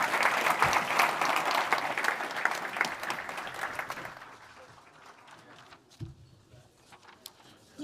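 Conference audience clapping for the president at the Lennart Meri Conference 2025, a dense round of applause that thins and fades out about halfway, leaving a few scattered claps and room noise.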